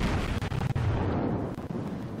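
Heavy battleship turret guns fire high-explosive shells at a destroyer in World of Warships, the Kawachi, giving a dense, loud rumbling roar of overlapping booms that stays sustained from start to finish.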